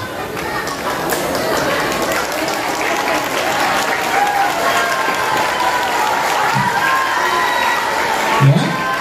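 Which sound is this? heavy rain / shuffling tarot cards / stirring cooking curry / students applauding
students applauding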